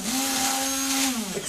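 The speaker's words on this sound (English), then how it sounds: "stick blender" A stick blender whirs in green tea soap batter, a loud, close, steady motor whine that holds for a second and then dips as it slows.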